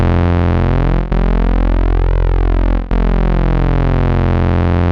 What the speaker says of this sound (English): Hear the phasing of the oscillators. It's an up and down sound.